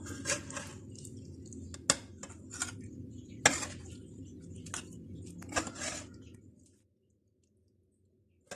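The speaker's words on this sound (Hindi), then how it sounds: "अब हम इसको बाहर निकाल लेते हैं और इसको डिश आउट करते हैं अब स्मोक चिकन को" Smoked chicken is lifted out and served onto a plate with a scatter of sharp clinks and scrapes of utensils on dishware over soft handling noise, then everything falls quiet.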